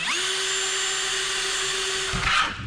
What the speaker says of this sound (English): it's a lot of work drilling 3/8 holes